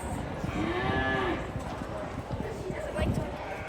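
Cattle at a youth fair livestock show, with a fairly close moo in the first half and hoof clatter and general barn bustle throughout, while people talk around them.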